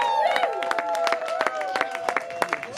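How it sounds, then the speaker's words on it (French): A crowd at a customary wedding for Haddy and Yannick claps in a scattered, uneven rhythm, with sustained voices and tonal singing or cheering rising over the clapping. "Il faut acclamer. C'est ça. Applaudissons, s'il vous plaît."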